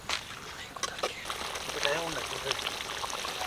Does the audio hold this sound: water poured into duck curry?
yes